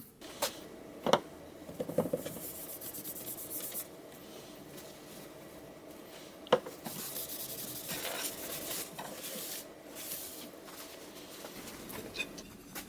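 Sandpaper rubs quickly over a wooden zero clearance insert for a miter saw, producing soft repeated scratchy strokes with a few sharp knocks in between, close and fairly quiet.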